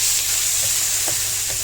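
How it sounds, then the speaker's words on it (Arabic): Garlic sizzles in cooking oil in a pan as mussels are prepared with garlic and lemon, a steady close hiss broken by a few soft stirring scrapes, with no talking. "هننزل عليها كده بمعلقه توم محترمه او معلقتين توم حسب الكميه اللي عندك اهو"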